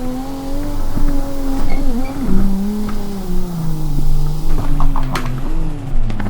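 A TUS Celerity car drifts through corners at night in a racing video game. The engine whines and revs loud and close, rising and falling, with tire squeal as it slides.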